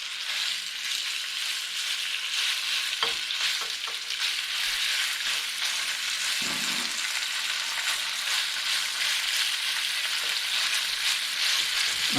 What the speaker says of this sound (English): bring the pan to really hot. All right, put the beef in.